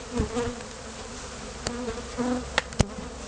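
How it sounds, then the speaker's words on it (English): Honeybees buzz steadily throughout, a dense droning hum with a few sharper ticks and knocks near the end, as bees are shaken from a box. "you'll see them shake a certain amount of bees out of the box"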